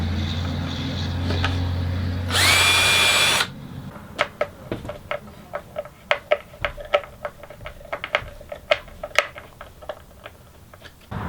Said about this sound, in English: Now I can slide the drawer slide back and drill a second hole.